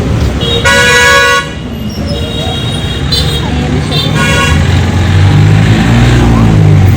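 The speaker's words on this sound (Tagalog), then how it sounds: "Daming dumadaan sa sasakyan." Busy road traffic with cars passing close by and a car horn tooting, engines rumbling steadily louder toward the end, while someone talks over it.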